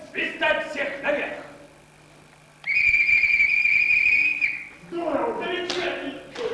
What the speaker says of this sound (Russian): А ну, сыграй свистать всех наверх.